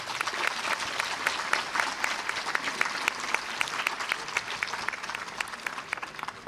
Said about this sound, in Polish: Brawa dla Filipa Kaucha